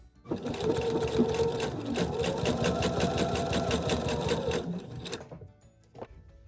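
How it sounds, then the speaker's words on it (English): Sewing machine sewing a half-inch seam for a skateboard stuffie, a loud, steady, rapidly pulsing mechanical run of about five seconds that stops abruptly, followed by a faint click. "we just sewed a 1/2 inch seam allowance right there"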